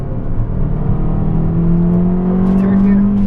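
An Abarth 500 race car accelerates hard at full throttle around Mondello Park, its engine note rising in a loud, close, steady drone with a climbing whine, under continuous talk.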